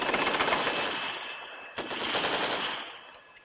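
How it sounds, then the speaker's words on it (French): Sustained automatic gunfire crackles in dense rapid bursts, a brief break near the middle, then continues before fading, set in a tense terrorist shootout at a remote valley farm. "Il va bien entendre les coups de feu"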